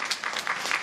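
Audience applause at a Suzhou Pingtan storytelling concert, a short burst of clapping from the crowd that rises and fades within a second, heard alone.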